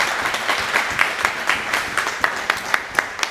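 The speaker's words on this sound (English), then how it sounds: "Come on, give a round of applause." Clapping from a modest crowd after the final of the US Snooker Masters, with individual hand claps standing out in a loose rhythm that grows sharper and more spaced toward the end.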